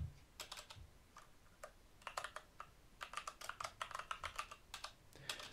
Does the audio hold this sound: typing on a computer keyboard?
yes